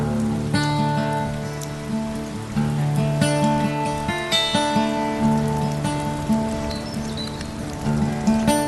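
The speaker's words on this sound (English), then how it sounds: "It's raining" Steady rain pattering outdoors on a February day, a continuous close wash of drops with some tonal hum and faint background sounds running under it, no voices.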